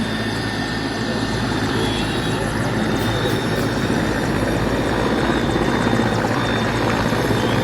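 A rescue helicopter flies overhead after a plane crash at Milestone College in Diabari, Uttara, its loud, steady rotor and engine roar filling the whole stretch without letup.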